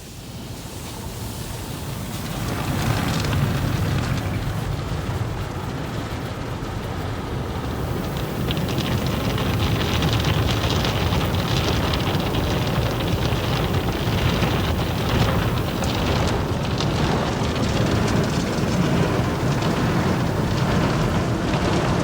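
A Nustar soft cloth top brush at a car wash runs with a dense, continuous rushing and slapping wash noise, like heavy rain, that is steady and enveloping throughout.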